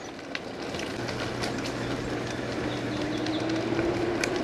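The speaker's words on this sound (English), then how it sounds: "I apologize for the brake noise." Bicycle brakes give off a thin, steady squeal that rises in pitch midway, riding over a constant rush of wind and road noise during a commute.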